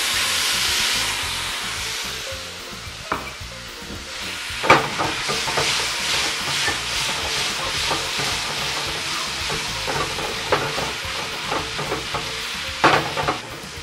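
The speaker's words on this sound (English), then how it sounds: "I'm going to add the shrimp to the hot pan." Shrimp sauté in a thin coat of hot oil in a pan, with a loud, continuous sizzle and hiss and repeated crackling bursts as they are stirred and moved around.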